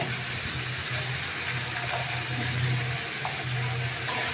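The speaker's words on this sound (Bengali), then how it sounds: "আমি চার পাঁচ মিনিট সবজিটাকে ভালো করে নেড়ে চেড়ে ভাজি করে নেব" Vegetables with jackfruit seeds and Malabar spinach being stir-fried in a pan give off a steady, close sizzling hiss over a low rumble, with a few faint clinks along the way.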